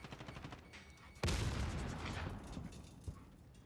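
Call of Duty video game combat: rapid bursts of gunfire, then a loud grenade explosion with a sustained rumbling roar and a later sharp bang, with no talk.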